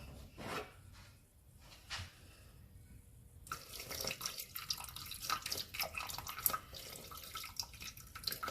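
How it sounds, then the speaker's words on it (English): Warm water is poured into a container of dough ingredients, a faint splashing trickle after some quiet rustling, continuing steadily to the end. "we're going to add 236 grams of warm water"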